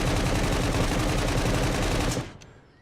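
Rapid sustained rifle fire from the SCUM prison survival video game rattles loud and continuous for about two seconds, then cuts off into a fading echo.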